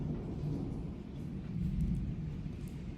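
A thunderstorm rumbles with faint, distant, low thunder under a soft steady wash of rain, swelling slightly midway without any sharp crack.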